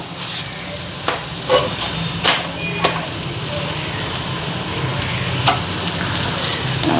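Food stir-frying in a pan until browned, a steady close sizzle with irregular scraping and knocking of a spatula against the pan, heard alone without talk.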